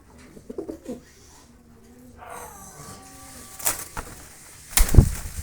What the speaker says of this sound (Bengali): যথেষ্ট পরিমাণ ডাকে কবুতরটা আমি দেখা দিচ্ছি আপনাদেরকে আর মাদি ধরলে নটটা হতে ডাকবে